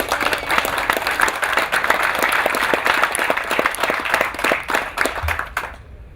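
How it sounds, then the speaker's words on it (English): An audience at a St. Jude charity golf invitational applauds, with dense clapping that runs steadily and then tapers quickly near the end, heard at moderate distance. "give yourselves a big round of applause for your support today"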